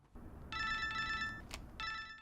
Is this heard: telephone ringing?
yes